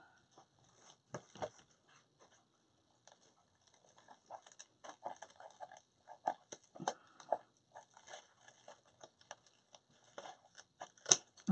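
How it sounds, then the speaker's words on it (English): Scissors snip away excess material from a Dollar Tree snowman craft: a run of small, crisp cuts and paper or fabric rustles, sparse at first, then denser, close up with no talk. "I'm just going to take this and cut off"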